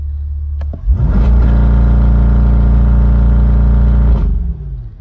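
A C8 Corvette's engine, held on launch control with the brake on, rises in one quick rev and then sits at a loud, steady held drone for about three seconds before dropping away.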